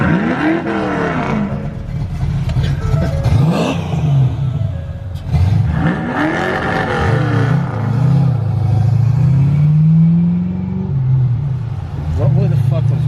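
Engine of a Chevrolet Blazer revving and accelerating nearby, its tone rising and falling in repeated swells over steady low rumble, with voices talking over it.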